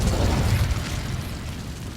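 An Incendio fire spell cast in Hogwarts Legacy bursts with a heavy whooshing, roaring blast that peaks early and then rumbles and crackles as it fades, loud and close, with no voice over it.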